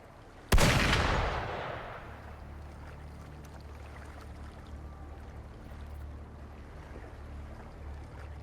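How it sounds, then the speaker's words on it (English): A single sharp gunshot in the video game Wuthering Waves cracks loudly near the start, then rings out into a long fading decay over a low ambient rumble. "Gunfire!"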